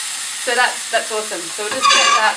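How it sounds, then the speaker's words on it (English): A spatula scrapes and stirs a steak in a hot frying pan with a faint sizzle, in short bursts heard under close, casual talk. "Oh, sorry about the scraping noise."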